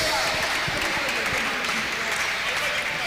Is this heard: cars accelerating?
no